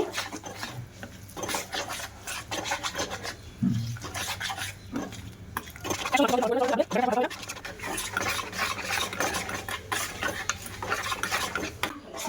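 Gram flour (besan) batter being stirred with water in a bowl for homemade mihidana: a steady, close scraping and swishing that runs throughout, with a voice talking over parts of it.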